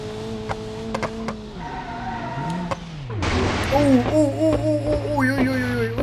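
A car engine revving hard at full throttle in BeamNG.drive, an ETK A-Series, its pitch climbing and falling through gear changes with some tyre scrub, fairly loud and close, with brief talk over it.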